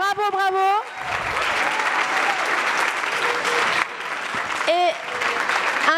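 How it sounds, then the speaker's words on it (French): Audience applauding children at a French public talk on screens, a steady wash of clapping lasting several seconds, with a voice speaking over the start and a few brief voiced calls rising above it. "On va remercier, applaudir les enfants"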